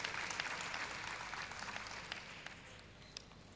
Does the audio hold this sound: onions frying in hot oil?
no